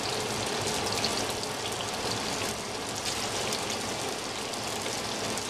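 Panzerotti fry in hot oil in a pan, a dense, steady crackling sizzle at moderate volume with no talking.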